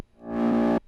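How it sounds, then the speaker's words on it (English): Short bass note from a piano sample run through a pitch modulator, a swell that rises in under a second with a gritty, effected, swooping timbre before cutting off abruptly; no voices. "I used the pitch modulator to create this like swooping effect"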